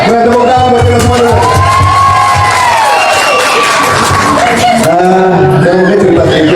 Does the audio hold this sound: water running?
no